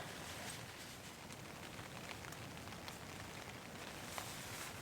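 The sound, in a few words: rain falling on a tent during winter storm camping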